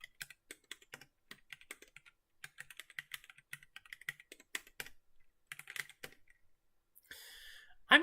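Rapid computer keyboard typing in bursts of crisp key clicks, close and quiet, with short pauses between runs while a password is entered; a brief louder rustle comes at the end.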